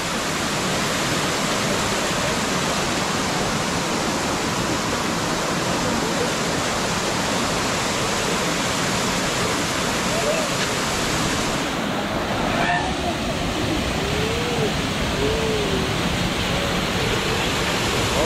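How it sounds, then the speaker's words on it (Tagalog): Secret Falls pours in a loud, unbroken wash of rushing water, close and steady throughout, with a brief faint voice near the end. "yan ang pinaka-falls dito"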